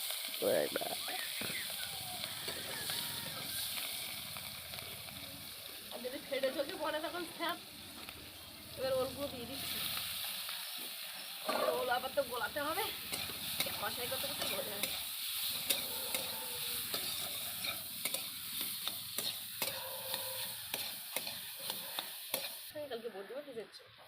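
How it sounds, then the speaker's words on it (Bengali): Green chilies dropped into hot oil, left over from frying fish, sizzle loudly and continuously up close, with stirring crackles and someone talking over the frying throughout. "লঙ্কা তেলে দেওয়ার আওয়াজটা কিরম হয়"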